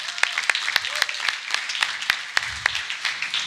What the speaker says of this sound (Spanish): Un aplauso para los 8 héroes que vinieron esta mañana a orar en la mañana.